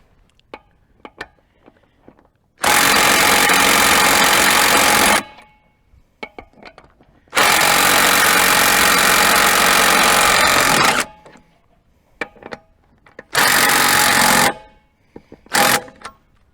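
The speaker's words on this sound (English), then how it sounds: "our DeWalt is still breaking loose 110 pound-feet" A DeWalt impact wrench running on a cheap 18V battery hammers loose a bolt torqued to 110 pound-feet. Three long, loud rattling bursts of several seconds each are followed by a short final burst, with quiet gaps between them.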